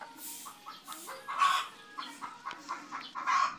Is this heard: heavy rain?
no